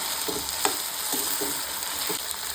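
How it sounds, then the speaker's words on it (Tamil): Raw plantain pieces sauté in hot oil in a South Indian kitchen, a steady soft sizzle broken by a few light spoon scrapes and stirring taps, close and alone with no voices. "அந்த எண்ணெயிலே நம்ம வதக்கிக்கலாம், அதுலேயே வாழைக்காயும் வெந்துடும்."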